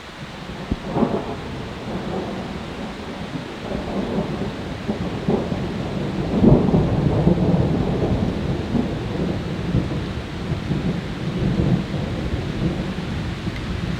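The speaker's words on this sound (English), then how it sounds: "That last clap of thunder was right on top of us." Heavy rain pours steadily on a campsite while deep rumbles of thunder roll through from directly overhead, loud and close, without any voices.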